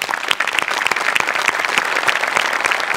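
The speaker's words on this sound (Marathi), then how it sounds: "त्यांच्यासाठी एकदा जोरदार टाळ्या." An audience at a Marathi comedy show bursts into loud, sustained applause, dense rapid clapping that fills the space evenly from start to finish.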